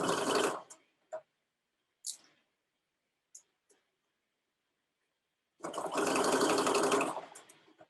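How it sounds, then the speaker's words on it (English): A sewing machine stitches around a shirt sleeve at half an inch in two loud, steady bursts, with a few faint clicks and handling noises in the quiet pause between them. "we're just going to stitch around the sleeve at 1/2"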